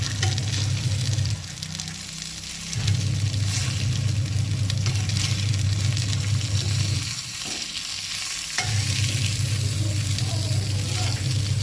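Shetka fish sizzles steadily as it fries in a pan in a Goan home kitchen, a loud continuous crackle with brief dips where the pan is moved.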